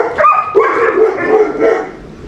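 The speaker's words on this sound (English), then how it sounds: "are you guys gonna go out here and bark?" Dogs bark and yip close by in a backyard, a few quick loud barks with whimpering tones in a short burst.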